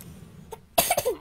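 A man coughs close to the microphone: a faint catch in the throat, then a loud, rough cough of two or three quick bursts.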